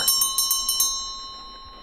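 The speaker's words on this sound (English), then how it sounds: "A bell sounds above me when I open the door." A bright bell jingles rapidly about seven times, then rings out and fades, like a shop door bell swinging overhead.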